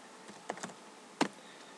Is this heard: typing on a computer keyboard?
yes